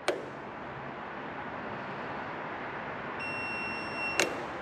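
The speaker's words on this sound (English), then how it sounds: "After 3 seconds, you will hear a buzzer beep." Beep from a dump trailer remote receiver's buzzer: a short bright tone near the end, with a sharp click at the start and another click right after, over steady background hiss.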